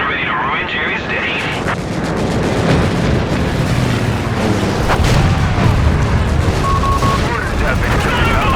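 Explosions and artillery-like booms from a bombing run destroying a tank in the Company of Heroes 3 strategy game, dense battle noise with gunfire and heavy blasts running throughout, loud and continuous, with game voice lines mixed in.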